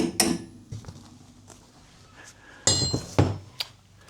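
Sharp metallic taps of a hammer squaring up a part during a Jeep build, a few scattered clinks followed by a louder cluster of strikes near the end, fairly close in a quiet workshop.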